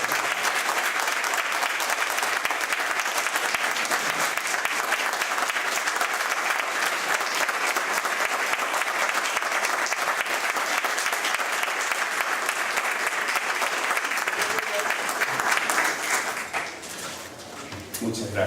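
A large audience at a Peruvian graphic-narrative event applauds loudly and continuously to welcome two comic artists, then tapers off near the end as a voice begins.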